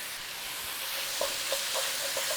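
Tomato paste cooks in a pan under a loud, steady hiss while a utensil stirs it, making a few soft scraping strokes in quick succession near the end.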